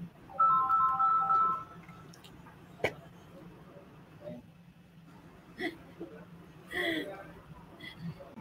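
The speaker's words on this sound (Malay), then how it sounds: "Ada bunyi telefon cikgu ke siapa ni?" A telephone ringtone plays a short melodic phrase a few times at the start, fairly faint, during an online interview, followed by clicks and brief voices speaking.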